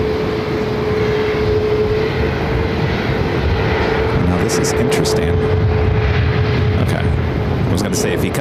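An airliner at Phoenix Sky Harbor airport makes a steady, loud engine roar with a sustained whine, and someone talks over it throughout.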